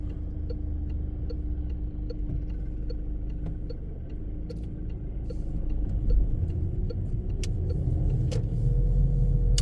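Idling engine of a Citroën C4 during a driving lesson, a steady low rumble with a regular ticking, likely the indicator, that swells slightly louder toward the end.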